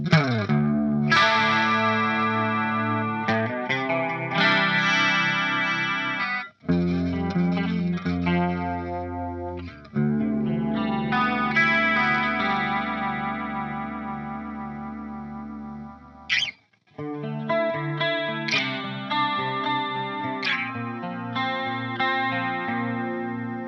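Clean electric guitar chords and notes from a humbucker pickup shimmer through a Pogolab chorus pedal, a Boss CE-2 clone, sustained and wavering, with a few brief pauses between phrases.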